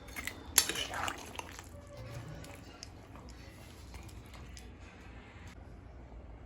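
A metal utensil clinks sharply against a pot while fried fish is mixed into a Bengali fish curry with radish, one loud clink then softer scrapes and taps under faint room noise.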